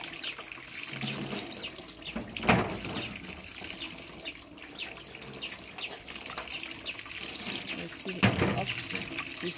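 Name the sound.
water running while washing pet snails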